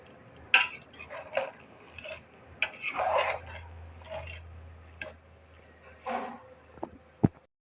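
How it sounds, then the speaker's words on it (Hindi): Metal spoon scraping and clinking against a pot while raw mango murabba is stirred together with white vinegar, a series of sharp, irregular knocks and scrapes at close range with quiet gaps between them. "और इसको मिक्स करेंगे अच्छी तरह से।"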